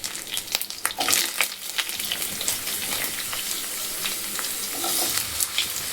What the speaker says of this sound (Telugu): కొంచెం కరివేపాకు, వేసుకుని కొంచెం వేగుతున్న టైంలోని బంగాళదుంపలు కూడా వేసేస్తున్నాము.